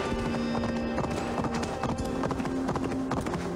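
Horse hooves clip-clop in a quick, steady rhythm in Assassin's Creed Valhalla, loud and close, with a faint tonal hum running underneath.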